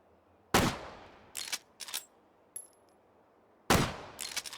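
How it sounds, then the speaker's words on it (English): An 1860 lever action rifle in Hot Dogs, Horseshoes and Hand Grenades fires sharp single shots with gaps between them, each crack followed by short clatters of the lever and echoing tails. "Let's see if I can shoot over there and hit."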